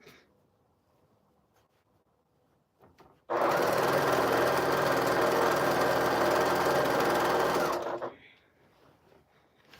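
A quilting machine starts after a quiet stretch and runs loud and steady for several seconds with its pedal pressed, a dense mechanical whir with fast stitching rhythm, then stops abruptly, leaving faint room noise.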